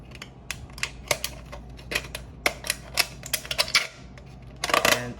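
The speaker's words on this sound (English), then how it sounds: "you're going to cut all the way around with the scissors" Scissors snip around an aluminium Monster energy drink can in a run of sharp, irregular metallic clicks and crunches, close and moderately loud, ending in a denser burst of cuts.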